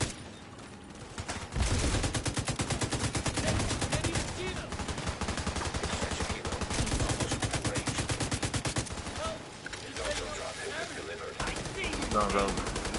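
Continuous rapid automatic gunfire in a PS4 shooter game, loud bursts of machine-gun fire running almost unbroken with overlapping shots and impacts, while players talk over it.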